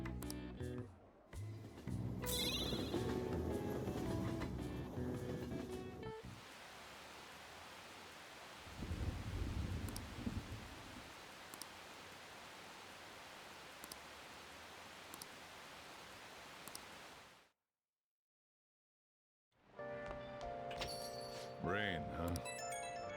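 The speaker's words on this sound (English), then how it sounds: "rain, huh?" Steady rain hiss with low thunder rumbles in the Persona 5 Royal video game, a continuous wash of rainfall under game music and voiced dialogue, ending abruptly in silence before music resumes.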